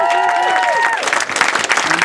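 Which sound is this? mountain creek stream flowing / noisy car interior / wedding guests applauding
wedding guests applauding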